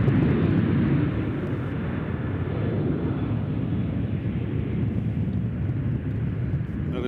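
Jet airliner in Reno Air retro livery at Nashville International Airport, a steady broad roar of engines heard from a distance, loud and continuous without voices.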